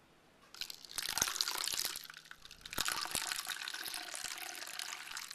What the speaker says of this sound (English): and I will begin pouring again.